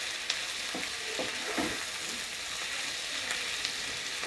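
Red capsicum frying in a pan, with a steady soft sizzle and a few faint stirring scrapes, close and quiet, without talk.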